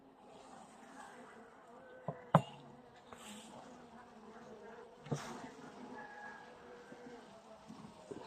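Honeybees buzz steadily close by during a spring hive inspection, with a couple of sharp knocks and handling bumps from the open hive breaking through the hum.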